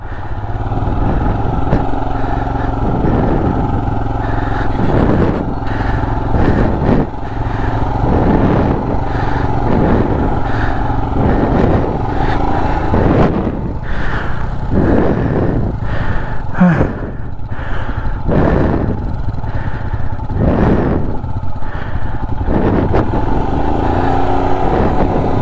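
A motorcycle strains uphill on the road to Khardung La, its engine droning loud and steady while repeated revving bursts rise and fall throughout the long stretch, close up with no clear talk.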